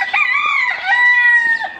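A rooster crows once, a long, loud, close call lasting nearly two seconds, rising and then trailing off, with chickens in a backyard flock.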